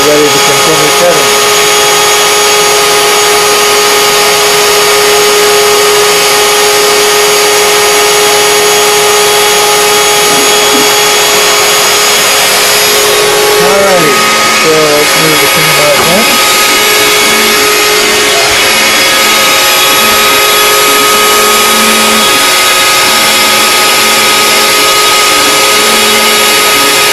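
A CNC router's tool changer spindle whirs steadily back up to speed with a vacuum hose running, a loud continuous mechanical drone with whining tones that shift briefly midway.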